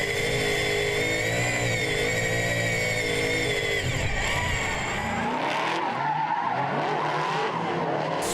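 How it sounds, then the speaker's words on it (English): Race car with straight-cut gears, its engine howling loudly and steadily with a sustained high whine, then shifting to a rougher, changing roar as it passes near during a circuit race. "Straight cut gears are just the absolute sound of a race car."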